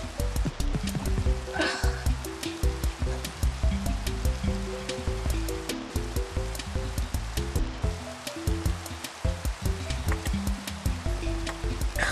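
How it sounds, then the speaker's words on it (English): Steady rain in Minecraft pours with crisp, scattered drops falling over a dense watery hiss, with deeper low tones underneath. "It's dark and rainy in this."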